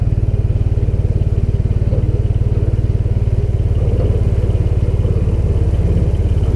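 Taylor Dunn B6-10 burden carrier driving along, a loud, close, steady low-pitched motor drone with a rapid regular pulsing clatter and no talking.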